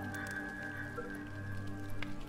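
Rain summoned by a spell in the strategy game The Universim falls as a faint, steady pattering hiss beneath sustained background music tones, quiet and continuous throughout.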